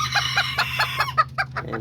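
Azteca and Serama chickens cluck repeatedly in short, clipped bursts, with a rooster's crow rising among the hens, close by over a low background hum.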